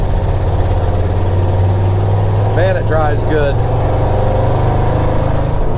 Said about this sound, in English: it's got a dual exhaust on it, got some glass packs, so it's a little noisier than stock